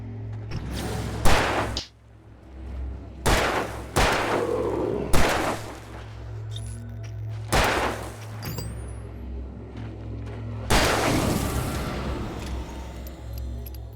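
Gunfire in the video game Alan Wake Remastered: six loud, sharp shots spaced irregularly over about fourteen seconds, each with a brief decaying tail over a steady low ambient hum.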